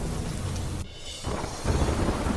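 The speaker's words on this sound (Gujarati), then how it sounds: "તમિલનાડુના વિરુપાક્ષીપુરમમાં ધોધમાર વરસાદ." Heavy downpour of rain with rolling thunder during a storm in Virupakshipuram, Tamil Nadu, a steady roar that briefly dips then swells louder again.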